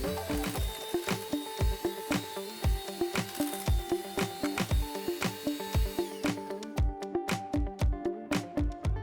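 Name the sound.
beating butter with a mixer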